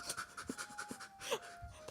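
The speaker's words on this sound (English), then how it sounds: "That's Tiger making those noises." A character in the video game Nekojishi pants heavily in quick, rhythmic breaths, close but fairly quiet, with a thin sustained tone running underneath.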